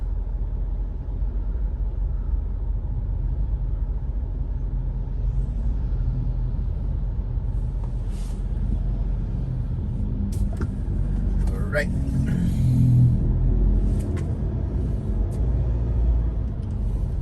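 Steady early-morning road traffic in Cebu City, with a continuous low rumble of cars and buses passing, a brief hiss like an air brake, and a person speaking briefly over the din.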